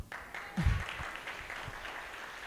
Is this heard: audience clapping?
yes